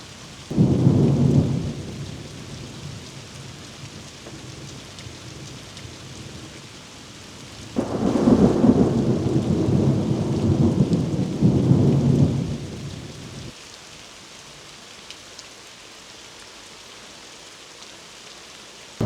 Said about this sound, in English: the storms have come and the storms have gone